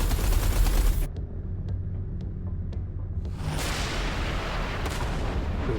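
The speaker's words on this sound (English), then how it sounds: "Watch out. The artillery." Artillery fire in the space combat game Everspace 2: a loud booming blast, then a series of four evenly spaced sharp reports over a low rumble, ending in a heavy sustained barrage.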